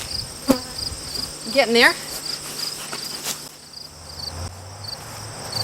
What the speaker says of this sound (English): we're going to put the rest of the bees right into this hive